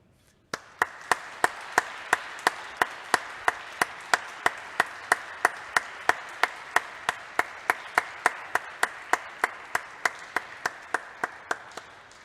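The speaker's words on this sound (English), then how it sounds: "we should finish off with another huge, great round of applause for John Vandertuin." Rhythmic, evenly spaced claps ring out one after another after an organ recital, like steady slow clapping in unison, continuing for many beats after a quiet start.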